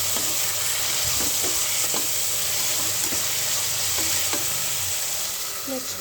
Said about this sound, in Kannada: ನೆಕ್ಸ್ಟು ಮೆಂತ್ಯ ಸೊಪ್ಪು ಮತ್ತು ಅವರೆಕಾಳು ಹಾಕ್ತಾಯಿದ್ದೀನಿ ಒಗ್ಗರಣೆ ಜೊತೆಗೆ.